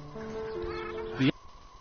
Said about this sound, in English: Great place to see all kinds of waterfowl, waders, herons and swans.